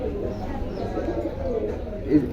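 Soft, low cooing of pigeons nearby, a continuous murmur with one slightly louder coo toward the end.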